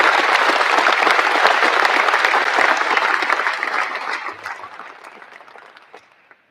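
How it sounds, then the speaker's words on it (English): An audience claps at a military change of command ceremony, steady, full applause that holds for several seconds, then thins out and fades to a few scattered claps. "Let's give Brandon a round of applause"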